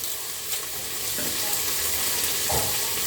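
Omena sardines frying in cooking oil give a steady, fairly loud sizzle with crackling pops, a couple of sharper spits standing out near the end.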